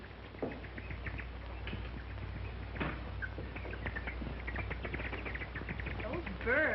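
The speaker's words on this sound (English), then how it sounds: "Those birds, what are they so excited about?" Countryside birds chirp and twitter across a morning scene, light overlapping calls against a steady hiss of background noise, with insect-like trills and a brief louder burst of chirping near the end.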